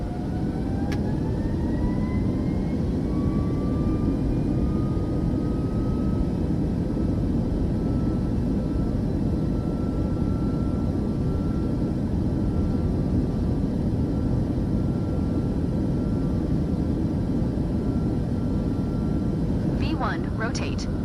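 Airliner engines roar steadily through a takeoff roll in Microsoft Flight Simulator 2024, a loud continuous broadband rumble with faint rising whine tones, ending in a few sharp clicks.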